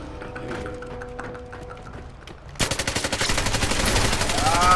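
Gunfire in a James Bond video game, a quick burst of rapid, evenly spaced shots that keeps going loud and dense after a calmer stretch of game sound.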